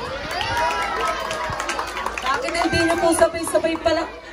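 Crowd at a Miss Gay pageant in San Isidro, Masantol, Pampanga, giving a steady roar of cheering, whooping and clapping, with shrill voices rising and falling throughout.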